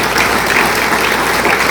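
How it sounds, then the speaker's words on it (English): A theatre audience at an Appalachian storytelling stage show applauds the sound and light crew, giving a dense, steady wash of loud clapping from many hands throughout. "So please give them a big round of applause"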